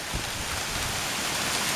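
Hail and heavy rain pour onto the ground during a storm in Mae Taeng, Chiang Mai, making a dense, loud, continuous hiss with scattered pattering impacts close by.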